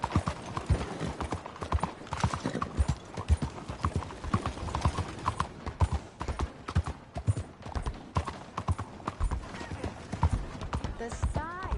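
Horse hooves pound rhythmically in Red Dead Redemption 2, a brisk, close clip-clop that runs steadily throughout with occasional snorts, while speech is heard over it.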